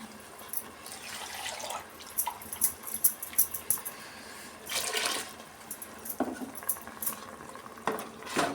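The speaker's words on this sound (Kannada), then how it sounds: "ನಾನು ಈ ಥರ ಜಾರ್ ತೊಳೆದು ನೀರು ಸೇರಿಸ್ತಾ ಇದ್ದೀನಿ" A grinder jar is rinsed and the water poured into a pot for lentil sambar, making quiet, uneven splashing and gurgling bursts with faint clinks of the jar.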